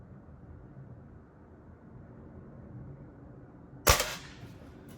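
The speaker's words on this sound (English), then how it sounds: "Now I'm going to shoot the right-hand side." A single sharp rifle shot at a target rings out near the end, loud and close, against a quiet low background hum.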